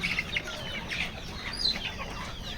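On a country poultry farm, a village rooster clucks among small chicks whose thin peeps overlap in a constant close flock chatter, with no voices.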